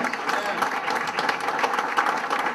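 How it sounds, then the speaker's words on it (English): A crowd at a Dr. Martin Luther King Jr. Day celebration gives a round of applause, with close, dense clapping and a faint murmur of voices throughout. "The First Lady, give her a round of applause, please."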